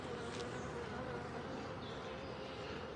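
Honeybees buzz steadily at an open hive in an apiary, a dense, continuous drone close by that stays even throughout with no pauses.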